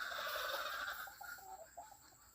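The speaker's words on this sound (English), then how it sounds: "I have my brood hens." Gamefowl brood hens cluck softly close by in a short run of low, throaty calls, with no voices heard.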